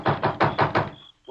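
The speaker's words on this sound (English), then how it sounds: "Knock on the door, Miller." Five firm, evenly spaced knocks on a wooden door ring out loud and close, a radio drama sound effect, then stop as a voice begins.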